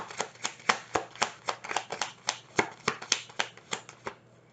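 Tarot cards are shuffled in quick rhythmic bursts, a dozen or so crisp riffles close by, ending in quiet.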